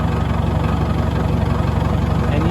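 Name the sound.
Caterpillar 922 wheel loader engine running after start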